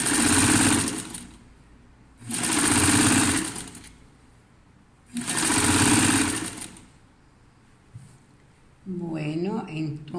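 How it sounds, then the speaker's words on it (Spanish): A sewing machine stitching the placket of a shirt-style blouse: three loud, sustained runs of fast mechanical whirring separated by short pauses, followed by a voice talking close by. "entonces estoy cosiendo la aletilla"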